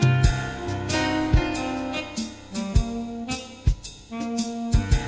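Pop song played back faster while keeping its original pitch, a steady beat with punchy drum hits under full band and singing at moderate loudness.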